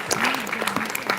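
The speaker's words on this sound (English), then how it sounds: "And clapping hand for this team also, Bernard and B." An audience at a medical quiz at St. Andrews applauds a quiz team, the clapping steady for just over a second while a voice carries over it.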